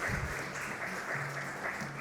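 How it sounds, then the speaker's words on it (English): Audience applause for a panel, moderator and performers at a public forum on disability rights, a steady broad wash of clapping that fills the whole moment without any talk over it. "I just want to ask that you all give an applause again for our wonderful panel, our moderator,"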